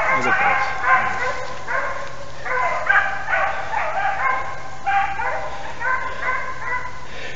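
Beagle hounds bark and yip in repeated bursts throughout a hare hunt outdoors, several dogs giving tongue close by with short overlapping barks and whines, and no talk over them.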